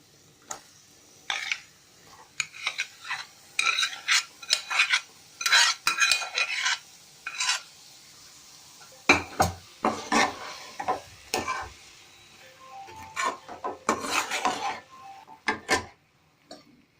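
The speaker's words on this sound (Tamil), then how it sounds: "இப்போ காராமணி 180 கிராம் வேக வச்சு வச்சுருக்கேன். இதில் சேர்த்துடலாம்." Cooked black-eyed peas tipped into a pan with eggplant and stirred, giving repeated scraping and clinking of a utensil against the pan in bursts with short pauses, close and fairly loud, with no talk.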